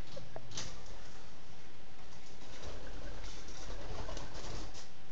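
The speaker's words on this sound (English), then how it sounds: "Chepa, it's a damn bird." A pigeon loose indoors in a bedroom, soft cooing and brief wing flaps close by over a steady hiss of room noise, no talking.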